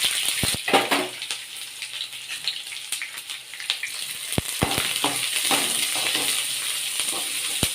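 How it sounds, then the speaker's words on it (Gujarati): Onions sauté in hot oil in a pan with mustard seeds, cumin, fenugreek seeds and curry leaves, giving a moderate crackling sizzle broken by sharp spoon clicks and stirring scrapes, close and without talk. "તો જો ડુંગળીને આપણે બ્રાઉન કલરની થાય ને ત્યાં સુધી આપણે એને સાતળશું"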